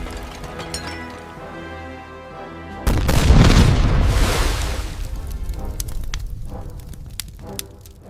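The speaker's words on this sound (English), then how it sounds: "The night becomes bright as day from tracers and explosions. The wooden motor launches are torn to shreds, erupting in fireballs." Sound effects for a World War II toy soldier battle depicting the St. Nazaire raid: a low drone suddenly gives way to a heavy booming explosion, followed by rumbling fire and scattered sharp gunfire cracks.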